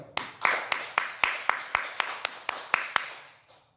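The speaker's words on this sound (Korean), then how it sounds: "일단 박수 한번 쳐봐." About a dozen sharp, evenly spaced hand claps from a single person at a Buddhist temple dharma gathering, crisp and close in a steady rhythm that slows slightly and fades at the end.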